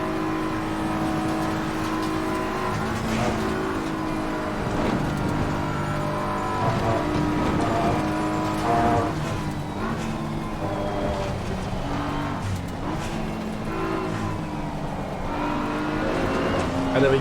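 Ferrari race car from a racing video game, Paul Ricard circuit, engine note droning steadily throughout with shifting pitch as it closes in, loud and continuous with no talk.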